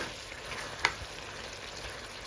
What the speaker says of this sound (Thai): ผัดเปรี้ยวหวานกุ้งจ้ะพี่น้อง มันมีอะไรก็ใส่ลงไปจ้ะ ใส่ถั่วใส่พริกหยวกแล้วก็ใส่หอมใหญ่